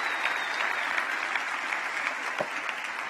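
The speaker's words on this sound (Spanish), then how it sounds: "Démosle un aplauso al Rey por esa hazaña tan hermosa." Church congregation applauding during a Sunday communion service, a steady wash of many hands clapping that fills the whole stretch evenly, dense and sustained with no voices standing out.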